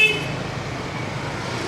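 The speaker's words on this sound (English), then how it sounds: "Lots of honking going on here" Car horns toot briefly amid steady street traffic rumble in the beach area of Da Nang, Vietnam, fairly loud and continuous with no voices.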